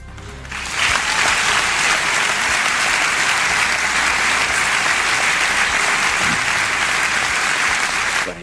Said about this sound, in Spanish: los aplausos pues muchas de las veces duran más de lo que deben durar